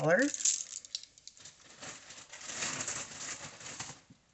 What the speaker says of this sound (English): Apologize about the bag noise